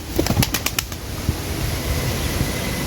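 A male pigeon lets loose a quick burst of wing flaps right after release, several sharp flutters in the first second, and then a steady low background rumble stays on its own.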